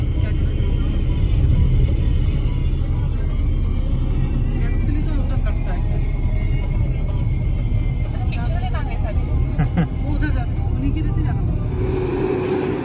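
A car drives along a hilly mountain road in Uttarakhand, a steady low engine and road rumble heard from inside, with people talking over it throughout.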